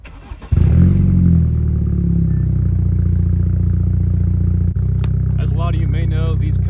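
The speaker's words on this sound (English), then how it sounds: "So I'm gonna do startup and a couple revs." A lowered, tuned BMW F30's engine fires up with a sharp burst, then settles into a steady idle; near the end a few quick revs rise and fall.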